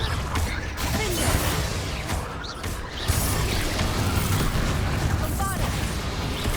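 Confringo blasting spells explode in Hogwarts Legacy on PS5, a dense, loud run of booming, crackling bursts layered over constant magical and ambient game noise, with no pause across the stretch.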